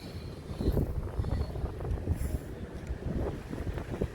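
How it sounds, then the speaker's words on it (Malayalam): Wind buffets the microphone in gusty, rumbling waves during ultralight lure casting for red snapper off the Kerala coast, loud and continuous with no talk. "നമ്മൾ കാസ്റ്റ് ചെയ്തുകൊണ്ടിരിക്കുന്ന ഇടയ്ക്കൊരു കാറ്റ് വീശി കിട്ടും. നല്ല കാറ്റായിരുന്നു."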